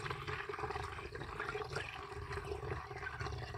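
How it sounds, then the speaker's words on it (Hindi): Water is poured into an automatic poultry drinker, a continuous splashing, gurgling flow that stays loud and steady throughout, with no talking. "ये देख लो, अच्छा खासे अमाउंट में इसमें हम लोग पानी डाल रहे हैं"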